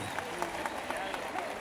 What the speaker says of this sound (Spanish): Regálame el aplauso fuerte que se oiga